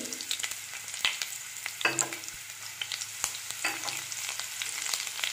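Garlic and curry leaves crackle and sizzle in hot oil, with sharp pops and spatters over a steady frying hiss, close and fairly loud.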